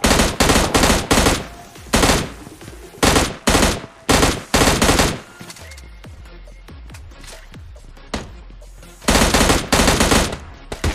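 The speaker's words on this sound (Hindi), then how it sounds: "सामने से भैया गोलियों की आवाज आ रही है" Gunfire in the mobile battle royale game PUBG Mobile Lite: rapid automatic bursts of shots, several loud volleys separated by pauses with fainter distant shots between, no talk.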